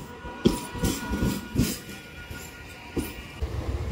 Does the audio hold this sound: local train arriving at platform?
yes